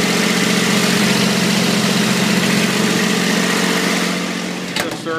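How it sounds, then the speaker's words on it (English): A Kubota diesel engine powers an AL4000 Yerex blade plant, idling with a loud, steady low rumble and vibration throughout, then tapering off near the end with a few clanks. "Good service to the power pack Kubota diesel engine"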